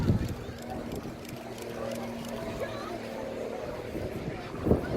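A Grob 115 propeller aircraft with a Lycoming piston engine flies at an airshow, a steady distant engine drone under wind noise and an announcer talking over it.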